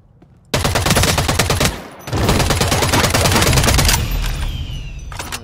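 A turret firing in the shooter game Eve Vanguard: loud, sustained rapid-fire bursts with a short pause between them, close and dominant, then trailing off into quieter echoes.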